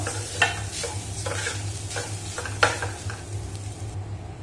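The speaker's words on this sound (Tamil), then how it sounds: "இப்போ மீடியம் ஃப்ளேமில் வச்சுட்டு நம்ம வறுத்தாச்சு இந்த அளவு வறுத்துட்டா போதும்" Grated coconut roasted in a pan over a medium flame, with repeated scraping stirring strokes over a soft, steady sizzle and a low background hum, close and without talk.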